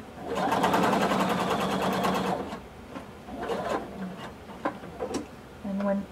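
A sewing machine stitches a blazer, a close, fast, even mechanical whirr for about two seconds, then shorter bursts of stitching broken by pauses as a voice talks.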